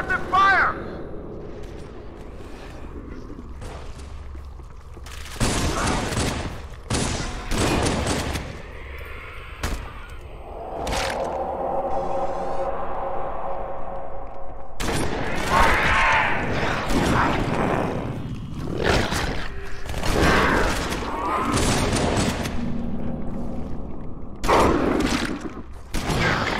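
Gunfire in the shooter game Halo 2 during a battle, repeated loud bursts and volleys of shots with weapon mechanisms and explosions, interspersed with voices talking.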